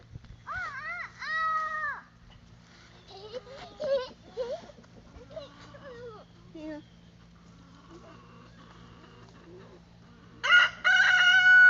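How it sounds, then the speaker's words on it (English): A rooster crows twice, a long loud cock-a-doodle-doo near the start and another sharp burst near the end, with soft voices and faint clucking in between. "What does that chicken say?"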